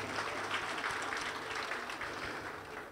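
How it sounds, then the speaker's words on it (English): Graduates at a Hindu graduation ceremony in Tunapuna receive sustained crowd applause, a dense, even wash of clapping from a sizable audience that continues throughout at moderate loudness. "So let's hear a round of applause for the graduates"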